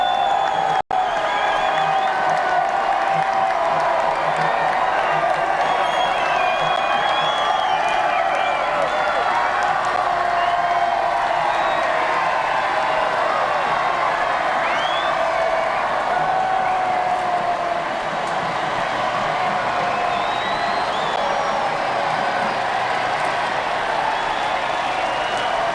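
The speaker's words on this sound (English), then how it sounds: "Listen to that crowd noise. That's not made up either. You can hear the crowd noise from Dallas" Large outdoor crowd cheering and clapping in Dallas, a sustained wash of applause, whoops and distant voices that stays steady and fairly loud from start to finish.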